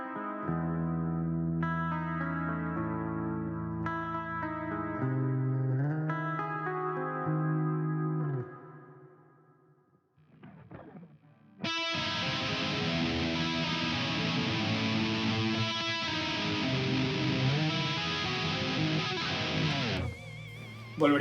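Electric guitar solo from a band's guest guitarist, in a metal song composition: sustained clean-toned notes give way after a short drop to a loud, dense, heavily distorted lead that plays continuously with effects.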